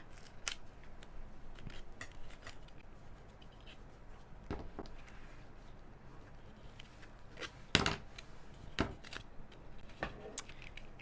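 Scissors snip paper during a scrapbook notebook-holder craft project, giving scattered sharp cuts and rustles over about eleven seconds, fairly faint, with one louder snap near the end and no talk.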